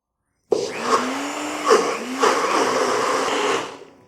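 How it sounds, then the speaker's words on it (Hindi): Mixer grinder blitzing cooled soaked rice for kheer, one continuous close, loud whir starting abruptly and running a few seconds, with small surges in the motor as the blades churn the grains before it dies away. "चावल ठंडे हो जाएंगे तो हमें इन्हें मिक्सर में डालकर ग्राइंड करना है"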